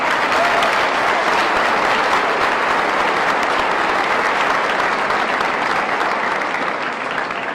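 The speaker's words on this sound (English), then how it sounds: "so give a round of applause." A large audience at a high school graduation ceremony claps for a keynote speaker, a loud, sustained wash of applause that holds steady throughout.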